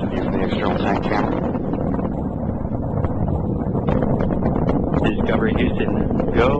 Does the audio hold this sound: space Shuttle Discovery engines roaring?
yes